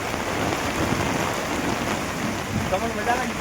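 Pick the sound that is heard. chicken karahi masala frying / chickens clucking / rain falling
rain falling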